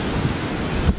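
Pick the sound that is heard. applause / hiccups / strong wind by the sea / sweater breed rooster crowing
strong wind by the sea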